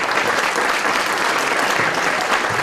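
Audience at a city hometown heroes recognition ceremony breaking into steady applause, a dense wash of many hands clapping at a constant level throughout, fairly close and without talk.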